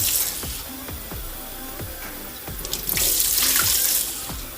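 Cold water runs from a tap into a bowl, a steady close splashing stream with repeated clicks and taps, swelling louder toward the end.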